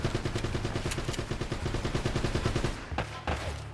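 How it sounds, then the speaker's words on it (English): Rapid automatic gunfire from shooting at an enemy in the Uncharted video game, a dense burst of repeated shots followed by a couple of separate louder cracks near the end. "you're shooting him, but you're literally just wasting ammo"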